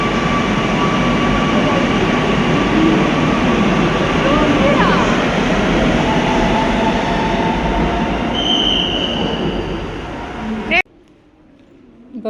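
Kochi metro train at the platform, a loud continuous rumble with rising whine and faint wheel squeal, then the noise cuts off sharply near the end as doors close or the car moves on.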